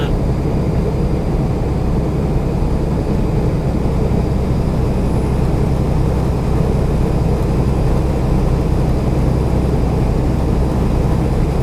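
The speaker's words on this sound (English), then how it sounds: "So we got motorcycle racing stuff going on here again." A steady, loud engine drone with a broad low rumble, unbroken throughout, like racing motorcycles heard from a distance.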